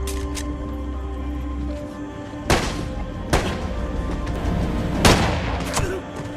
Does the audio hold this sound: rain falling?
no